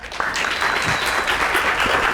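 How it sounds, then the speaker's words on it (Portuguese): A lecture audience applauds steadily for a named guest at an art talk, dense sustained clapping close and loud across the whole stretch with no speech over it. "Uma salva de palmas para ele, por favor."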